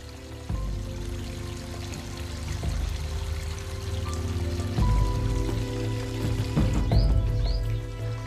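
Water flows and trickles steadily in a mountain stream in Wadi Hibi, Suhar, Oman, a continuous close gurgling wash with a few faint chirps above it.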